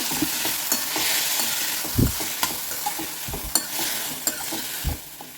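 Tomatoes sizzle steadily in a hot pan, with occasional soft thumps and scrapes as they are stirred.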